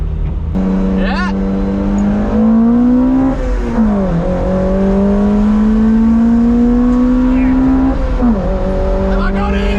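Engines roar and rev as cars race at Lakeside Raceway, with pitch rising and dipping through gear changes and a brief tire squeal, loud and up close.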